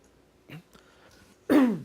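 A faint short throat noise followed by a loud, harsh throat clearing close to the microphone.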